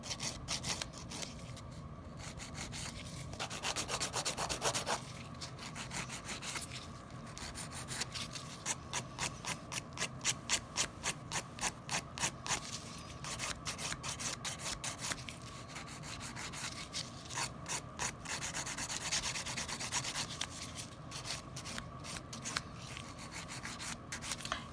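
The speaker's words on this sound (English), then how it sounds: "I'm filing what we call the lower arch here and the free edge." A hand file works a sculptured acrylic nail with quick, rhythmic rasping strokes, close and fairly quiet, in bursts of scraping that speed up and slow down throughout, with no talking.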